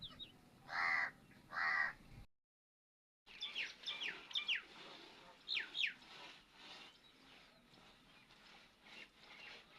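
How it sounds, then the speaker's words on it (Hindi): Crows caw back and forth in a domestic courtyard setting, a pair of loud near calls at the start, then after a brief silence a run of repeated harsh caws and overlapping calls from several birds. "देखिए ये एक दूसरे को बुला रहे हैं आवाजें लगा लगा के।"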